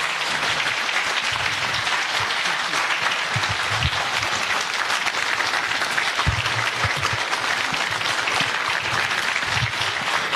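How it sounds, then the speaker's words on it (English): A crowd at an EFF political rally gives a big, sustained round of applause for a speaker, thick and continuous clapping that stays loud and even for about ten seconds. "Let's encourage him with a big round of applause."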